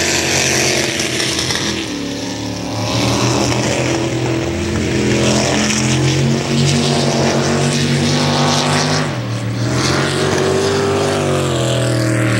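A loud, steady engine roar from a racing boat, droning continuously with shifting pitch as the throttle changes.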